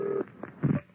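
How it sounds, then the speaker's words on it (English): A brief electronic telephone tone on a radio broadcast sounds, short and fairly quiet, breaking off within about a second. "I think I hear the phone ringing."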